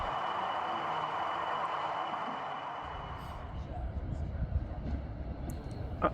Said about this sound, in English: arriving at Market Bosworth station was Class 33